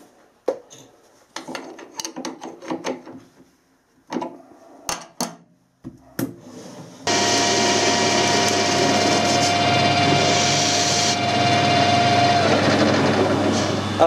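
A few sharp metallic clicks and clunks, then a lathe starts up and runs with a steady, loud whine as the centre drill cuts.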